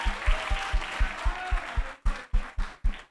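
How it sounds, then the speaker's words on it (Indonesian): Audience applause at a community festival talk session, clapping in a steady rhythmic pattern of loud, evenly spaced claps with broadband bursts, fairly close and with no voices over it. "Boleh aplaus sekali lagi"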